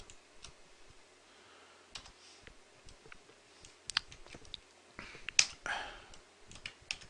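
Typing on a computer keyboard at a desk, scattered quiet key clicks and taps in irregular bursts, close but faint, with a few louder knocks toward the end.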